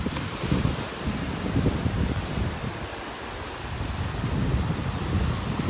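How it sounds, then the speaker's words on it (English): Steady, blustery wind buffets the microphone at the beach by Delnor-Wiggins Pass State Park, with surf rushing beneath it and no voices. "A little breezy up here at the pass."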